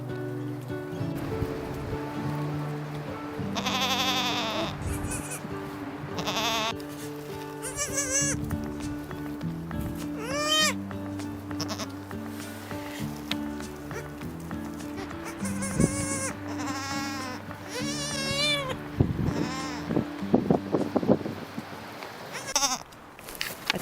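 Newborn goat kids on an off-grid homestead bleat repeatedly in thin, wavering cries, close by, over a steady windy background with some rustling.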